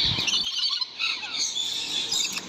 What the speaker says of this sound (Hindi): तो गाइस, ये जो पैरट्स हैं,